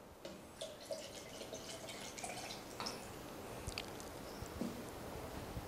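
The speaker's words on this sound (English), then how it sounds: "on my right hand here is the water that I will pour into the first canister" Water is poured into a canister, giving soft trickles and scattered drips that are quiet and close, with a faint background hiss.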